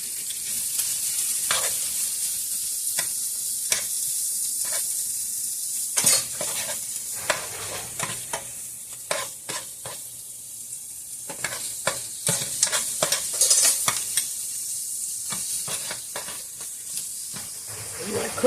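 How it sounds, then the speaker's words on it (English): Bacon fries in a pan with a constant bright sizzle and hiss, while tongs stir and clack against the pan in irregular clatters. Someone speaks intermittently over the cooking. "You want to cook that until the bacon is"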